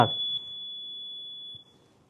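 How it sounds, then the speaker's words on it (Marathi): A steady high electronic beep from an electronic voting machine at a municipal election in Aurangabad, confirming a cast vote, sounding close and clear for about a second and a half before cutting off into near silence. "अशा हे आवाज तुम्ही ऐकला बीपचा, म्हणजे याचा अर्थ तुमच्या मतदान प्रक्रिया संपलेली आहे"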